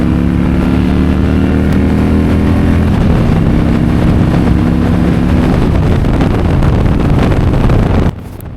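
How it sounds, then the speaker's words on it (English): A 2003 Harley-Davidson Road King with an FXRT fairing rumbles along a highway, its engine pitch climbing through the gears under heavy wind rush, loud and close throughout until it cuts off abruptly at the end. "Let's hear this thing go."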